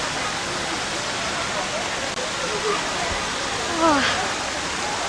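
Water pouring over a Niagara Falls replica at the Karkala festival makes a steady, dense rushing roar throughout, with faint voices in the crowd underneath.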